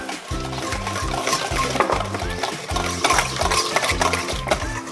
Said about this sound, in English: Now with my whisk, I'm just gonna whisk that together.